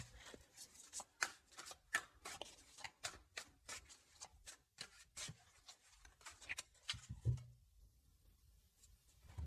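A deck of tarot-style cards is shuffled and drawn, a series of crisp riffling and sliding card sounds close by and quiet, irregular bursts with a soft thump near the end, no voices.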